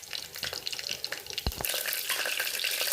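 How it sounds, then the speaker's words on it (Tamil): Whole spices with mustard seeds crackle in hot oil for a Tamil mutton kulambu, sounding as a busy sizzle with scattered pops, one sharp clatter midway and a fuller, steadier hiss afterward. "வடுகம் பொரிஞ்சிச்சு. இப்போ வெங்காயம் சேர்த்துக்கலாம்."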